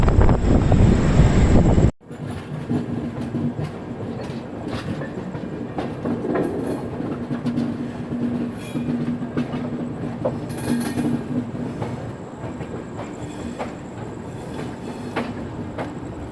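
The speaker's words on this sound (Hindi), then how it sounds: "तो हीराकुंड एक्सप्रेस के बाद हमारी ट्रेन का भी अब डिपार्चर हो चुका है।" Golden Temple Mail passenger train running on rails, heard from on board as a steady rumble with faint rhythmic clicks, wind buffeting the microphone and a louder rushing burst for the first two seconds.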